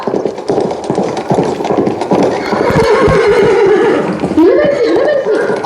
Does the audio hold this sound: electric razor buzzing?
no